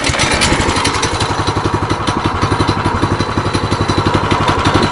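A tricycle rides off-road on the way to an abandoned village, its engine chugging loudly and steadily with a fast, even pulsing beat and rattling clatter, close and continuous without voices.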